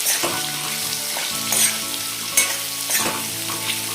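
Raw mango pickle (methamba) being stirred and mixed in a frying pan, with steady sizzling and repeated scraping strokes of a spoon against the pan, close and moderately loud, no talking.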